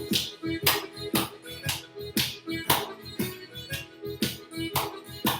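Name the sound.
Irish dance foot taps and claps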